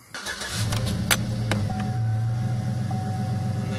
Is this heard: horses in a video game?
no